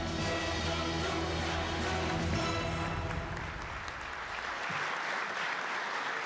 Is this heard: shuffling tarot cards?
no